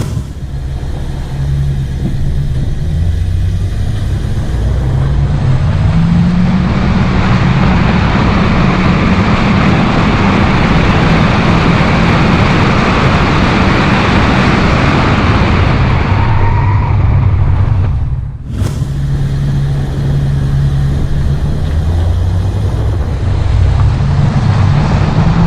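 A Chevrolet Onix Plus Premier 2021 and Nissan Versa Exclusive 2021 accelerating on the street, loud rumbling engine and road roar climbing steadily with a brief dip as a gear shifts, then building again.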